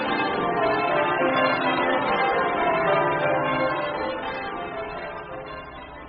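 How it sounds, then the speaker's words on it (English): A church bell rings in a peal of overlapping tones that build into a dense, sustained clangour and slowly fade in the final seconds, loud and close with no voices. "that dreadful bell be silent"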